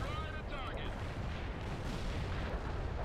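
Heavy artillery fire in the World in Conflict war game, a dense, continuous low rumble of booms and blasts filling the scene, with radio voices talking over it.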